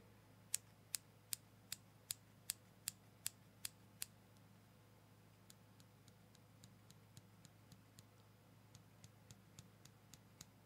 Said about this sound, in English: It's a bunch of scissors. It's the small scissors that I have there.